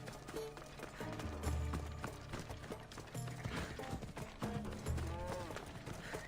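Horse hooves clip-clop at a run in Assassin's Creed Odyssey, a steady galloping rhythm mixed with game music and effects, fairly loud and continuous.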